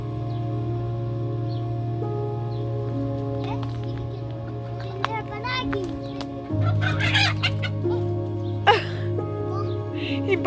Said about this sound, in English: Trying to catch that little rooster?